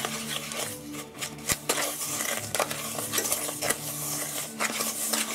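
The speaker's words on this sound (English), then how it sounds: "So let's stir this together." A spoon scrapes and clinks around a bowl as packed brown sugar is stirred into cookie dough for gluten-free chocolate snowcap cookies, a steady close scraping with a few sharper taps against the bowl.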